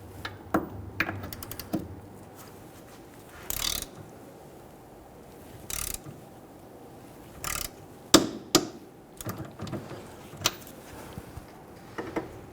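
A ratchet tightens jam nuts on a rear lower control arm of a 2006-2012 Toyota RAV4, giving sporadic metallic clicks and clacks up close, separated by short quiet gaps.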